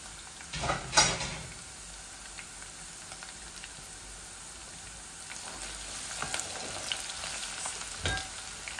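Garlic dropped into a pan with plenty of hot oil, sizzling loudly with a sharp burst near the start, then settling into a steady, close crackling hiss.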